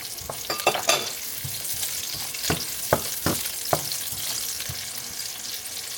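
Food frying in an old wok with plenty of ginger, a soft continuous sizzle broken by sharp scraping clacks of stirring utensils against the pan, close and moderately quiet.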